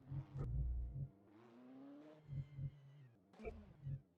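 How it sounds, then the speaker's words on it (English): A Ferrari 488 GT3 Evo 2 race car engine revs in the rFactor 2 racing simulator, with throttle blips and one rising rev sweep between bursts, quiet and in the background. "I'm revving it out too much because I enjoy it"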